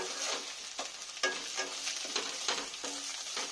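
Garlic paste stirred and fried in a pan while cooking a stingray fish curry, with a steady sizzle broken by repeated scraping strokes of a spoon at close range and no talk.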